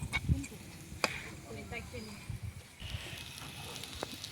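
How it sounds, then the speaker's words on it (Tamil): Vegetables and masala for veg cutlet sizzle and crackle softly in a pan, with occasional scrapes and stirring knocks, the frying quiet and close throughout. "காய்கறியெல்லாம் போட்டு மசாலாலாம் போட்டதுக்கப்புறம் நல்லா வந்து பச்சை வாடை போகிற அளவுக்கு வதங்கிட்டு"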